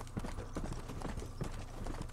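Horse hooves clip-clop in the video game Undead Nightmare, a quick, steady rhythm of soft thuds at moderate volume with faint background ambience.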